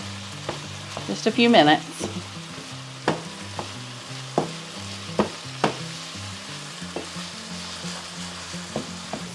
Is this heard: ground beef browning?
yes